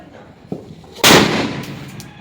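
A handheld Diwali firecracker goes off with a short pop followed by a loud, sharp blast that fades into crackling sizzle, close by.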